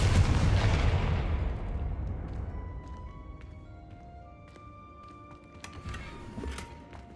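A Confringo fire spell from Hogwarts Legacy detonates in a loud, deep booming blast that decays over several seconds into a fading rumble, followed by faint tonal game sounds and scattered small crackles.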